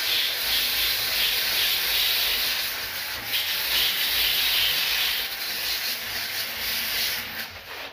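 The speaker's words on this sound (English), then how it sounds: "So we'll just sand that down a little bit." A fiberglass car spoiler is sanded by hand, giving a continuous close abrasive rasp with rhythmic back-and-forth strokes that hold steady, loud and hissy, throughout.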